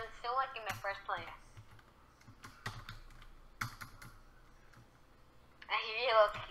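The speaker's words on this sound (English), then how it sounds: "I hear you on the keyboard." Typing on a computer keyboard during a football career mode gaming session, a close run of irregular key clicks and taps heard between bursts of nearby talk.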